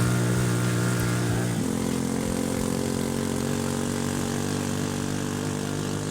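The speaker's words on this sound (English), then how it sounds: "That's a very noisy scooter." A noisy scooter engine in the video game inKONBINI drones steadily and loudly throughout, its pitch stepping up partway through as it revs.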